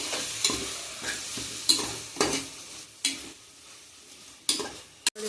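Green peas frying with softened tomatoes in a pan, stirred with sharp spatula scrapes and clinks every second or so over a low sizzle, close and without speech.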